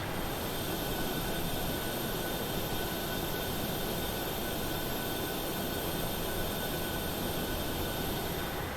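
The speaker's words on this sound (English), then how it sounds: "We've been cleared for pushback and start." Cargo jet aircraft during pushback and engine start, heard as a steady, dense broadband engine roar with faint high whine tones, constant and unchanging throughout with no talking.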